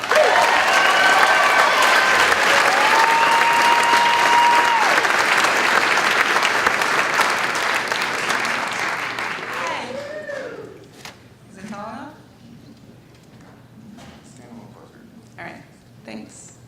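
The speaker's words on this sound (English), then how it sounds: "Please give a warm round of applause to Joyce Gibbs." A live audience applauds for Joyce Gibbs, who has been introduced as a storyteller. Loud, dense clapping fills the first ten seconds, then thins to a few scattered claps while a voice speaks.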